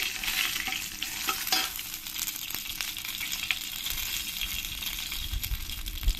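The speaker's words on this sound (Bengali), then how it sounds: "তেলটা ভালো করে গরম হয়ে গেছে এবার আমি এর মধ্যে দিয়ে দেবো এক চামচ কালো জিরে এর মধ্যে দিয়ে দেবো শুকনো লঙ্কা তেজপাতা দিয়ে ভালো করে আমি একটু ভেজে নেবো" Black cumin seeds, dried red chilies and bay leaves fry in hot oil, a steady close sizzle broken by sharp spatter pops and light stirring scrapes, with no voices.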